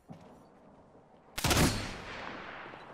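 A sudden loud burst of gunfire in a video game, a dense crackling volley that trails off into a lingering rumble and echo after a quiet stretch.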